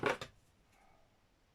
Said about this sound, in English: You can feel the card because the scissors don't want to glide through